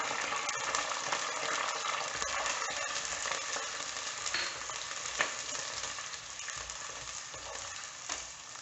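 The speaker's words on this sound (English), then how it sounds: "Fry for 2 minutes." Garlic and curry leaves fry in a hot pan with a steady, dense sizzle and crackle, heard close and continuous with occasional stirring and no voices.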